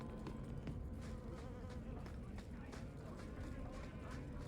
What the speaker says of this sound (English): God, the fly is buzzing in my ears.